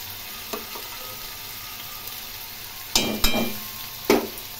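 A paste of ground ginger and tomato, with cumin, coriander and chilli, sizzles in a pan for a Bengali fish curry, a soft steady frying hiss broken by a few louder sputtering bursts near the end.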